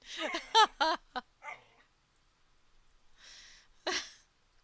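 A dog barks in a few short, sharp bursts close by, goes quiet for a couple of seconds, then lets out one more bark.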